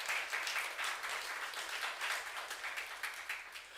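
A church youth congregation claps during a sermon, a soft, steady wash of many hands sounding somewhat distant and low in level.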